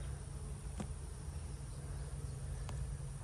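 Honeybees buzzing around nuc hive splits in an apiary, a continuous low droning hum with a couple of faint sharp ticks, steady and close, with no talking.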